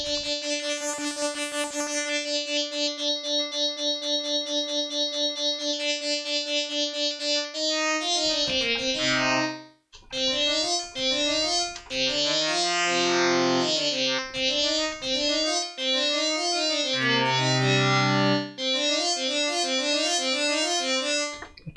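A Novation Peak synthesizer patch with oscillator 3 modulating oscillator 1: a bright, buzzy sustained tone with a rich harmonic stack, then a run of shifting, metallic FM-style notes at changing pitches, loud and continuous with no voices.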